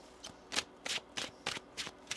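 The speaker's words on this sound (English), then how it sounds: "One more shuffle here." Tarot cards are shuffled up close in quick riffling bursts, about seven brisk papery flicks in an even rhythm, soft and alone.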